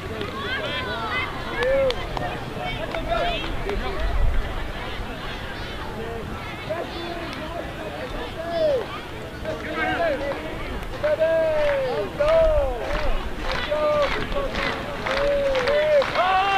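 Fans at a Bend Elks baseball game build in noise, a steady crowd hubbub with rhythmic clapping and scattered shouts growing busier toward the end.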